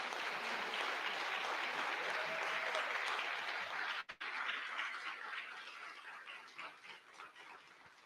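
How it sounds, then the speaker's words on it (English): Crowd applause for ring recipients at a university ring ceremony, dense clapping with some cheering that holds strong, breaks off abruptly midway, then resumes thinner and gradually tapers. "how about a round of applause for all of our ring recipients?"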